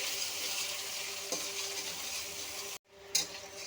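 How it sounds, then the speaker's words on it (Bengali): Chopped onion and green chilli, added after black cumin, fry in a pan with a soft, even sizzling hiss. A brief cut in the sound is followed by a clink and renewed sizzle. "পেঁয়াজটা হালকা করে ভেজে নিয়েছি।"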